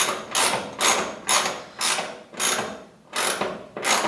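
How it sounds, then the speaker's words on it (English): A seat bolt being threaded into the floor of a 1967 Chevy C10 Stepside, giving about eight evenly spaced ratcheting clicks in a steady rhythm, close and clear. "This bolt's threading in just fine."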